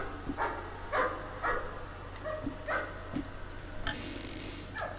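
A dog barks in the horror video game Layers of Fear, a series of sharp separate barks spaced through the stretch with a short whimper-like yip, over a low steady game hum and faint clicks.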